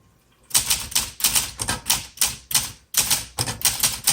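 Typing on a 1965 Olympia SM8 manual typewriter: a rapid run of crisp, loud key strikes in an uneven rhythm, close up, with one short pause midway and no talking.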